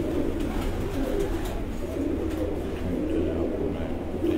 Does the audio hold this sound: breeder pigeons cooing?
yes